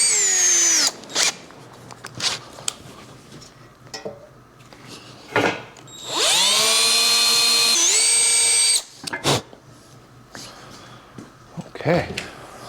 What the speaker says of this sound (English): we're gonna drill that out for that bung anyway. But let me at least get a pilot going on here.